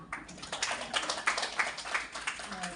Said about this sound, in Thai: ขอเสียงปรบมือให้ คณะกรรมการสภาพระธรรมอำเภอเมืองทุกท่านค่ะ